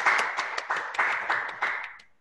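An audience gives a short round of encouraging applause at a sales meeting, with a few distinct group claps in a loose rhythm that fade out within about two seconds.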